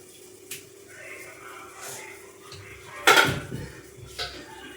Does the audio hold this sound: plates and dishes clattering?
yes